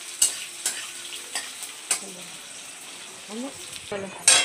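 Onions sizzle as they fry in a pan for a home-cooked chicken dish. Sharp stirring scrapes and clinks cut into a soft, steady frying hiss, heard close and without talk.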